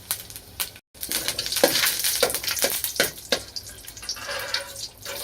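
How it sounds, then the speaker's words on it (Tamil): Mustard seeds spluttering in hot oil in a home kitchen, a steady close sizzle broken by scattered sharp pops and crackles, loud and continuous, with no talking. "எண்ணெய் ஊற்றிட்டாங்க. அடுத்து கடுகு போடுறாங்க."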